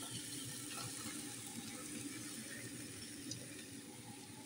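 Water runs steadily from a tap into a container to soak jereesh (crushed wheat) for cooking, a faint continuous hiss and splash heard alone.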